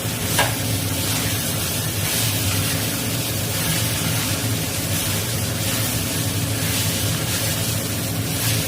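Pointed gourd and potato pieces being stirred in a frying pan give a steady, close sizzle with continuous scraping and tossing that runs at an even level throughout, with no voices.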